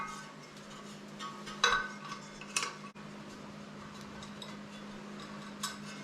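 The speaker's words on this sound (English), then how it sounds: "I'll loosen them all up first before I start taking them out." A wrench loosens bolts on a Ford 460 engine during a teardown, giving a few sharp metallic clinks and ratchet clicks over a steady low hum in a quiet workshop, with no talking.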